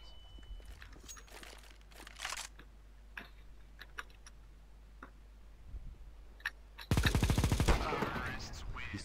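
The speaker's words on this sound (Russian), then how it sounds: "чего ты стреляешь?" Counter-Strike: Global Offensive gunfire: scattered single shots and clicks early, then a loud rapid burst of automatic fire near the end, with faint talking in between.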